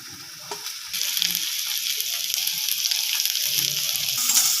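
Chopped onion sizzles and crackles steadily in hot mustard oil in a pan, the frying growing louder after the onions go in, with occasional stirring scrapes underneath.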